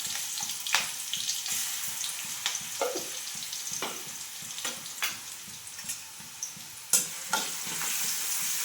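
Ground garlic and cumin paste sizzles in hot oil with mustard-seed tempering for a moong dal and cabbage dish, a steady close frying hiss broken by repeated scraping stirs, with no talk.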